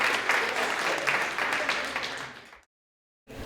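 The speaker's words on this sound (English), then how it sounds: "Let's give him a round of applause." An audience gives a round of applause at a community meeting: dense, fairly loud clapping that fades out after about two and a half seconds, then a brief silence before room sound returns.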